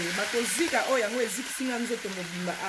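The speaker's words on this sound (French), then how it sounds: "j'essaie un peu de frire, un peu légèrement" Food fries lightly in a pan with a steady, soft sizzle and occasional stirring. A person talks over it throughout.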